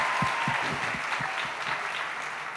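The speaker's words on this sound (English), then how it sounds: "we should do another round of applause for her" An audience at a runway fashion show breaks into steady applause, a dense wash of clapping heard at a moderate distance and fading slightly toward the end.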